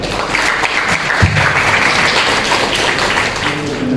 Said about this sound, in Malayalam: നിങ്ങൾക്ക് കൈയടിക്കാൻ തോന്നുന്നുണ്ടെങ്കിൽ കൈയടിച്ചോ.